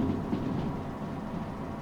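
A train rolls along the rails in the railway game Derail Valley, giving a low, steady rumble with a faint rhythmic clatter at moderate volume.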